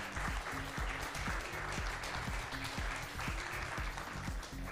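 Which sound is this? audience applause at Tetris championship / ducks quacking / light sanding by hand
audience applause at Tetris championship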